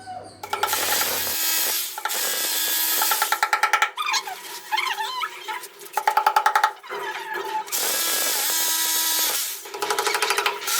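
Power drill boring holes for pipe clamps during a 1 hp monoblock motor pump installation, heard as several loud bursts of whirring and grinding separated by short pauses, with no talking.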